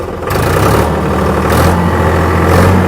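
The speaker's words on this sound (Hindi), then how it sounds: "पहले मैं क्लच दबा के ट्रैक्टर चालू कर रहा हूँ, दोनों गियर न्यूट्रल है" A tractor engine holds a steady, loud drone at 1840 rpm with the PTO engaged, a constant low hum with no change in pitch, close to the listener.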